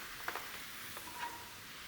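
Tomatoes stirred in a hot frying pan give a faint, steady sizzle with a few soft spoon scrapes near the start, heard alone.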